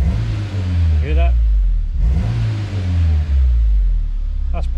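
A Honda S2000 engine revs up repeatedly from a steady idle, each throttle blip rising sharply then falling back, loud and close, with someone talking over the revs.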